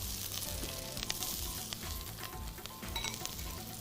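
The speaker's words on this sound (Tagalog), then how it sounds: "Lightly saute." Onions sautéing in a pan for a crayfish dish give a steady, close sizzle and crackle with occasional stirring scrapes, continuous and fairly quiet, no voices over it.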